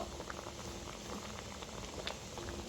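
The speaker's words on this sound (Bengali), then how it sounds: "টমেটোগুলো সিদ্ধ হয়েই এসেছে" Tomatoes boil in a pot of water, giving a faint, steady bubbling and simmering with small pops and no voices.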